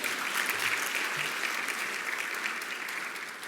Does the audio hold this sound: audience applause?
yes